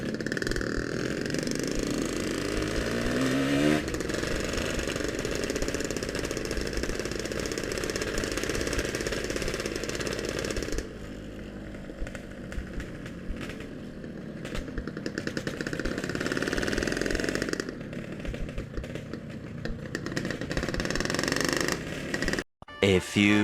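A Yamaha RX King motorcycle engine runs continuously and loud close up while riding on an afternoon road, with a steady two-stroke drone, throttle shifts midway, and brief talk mixed into the noise.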